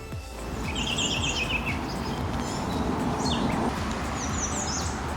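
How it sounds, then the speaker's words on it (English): Birds sing and chirp in a foggy park early in the morning, several high calls and short trills rising over a steady wash of outdoor ambience, moderately distant. "I just love the sound of birds, of nature early morning."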